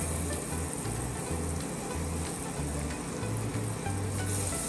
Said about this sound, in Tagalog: Lalagyan mo ng bawang, sibuyas, gigisa mo dyan.